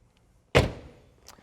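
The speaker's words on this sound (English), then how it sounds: "Both doors open and close with ease." A car door on a 2004 BMW 330Ci convertible shuts with one sharp, close slam that rings briefly and fades, followed by a faint light click.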